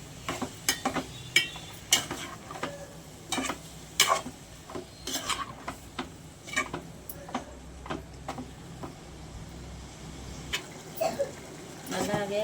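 Stirring drumstick and onion curry with leaves in a pan: repeated short scraping ticks of a spoon against metal in an irregular rhythm, close and moderately loud over a faint sizzle, with no voices.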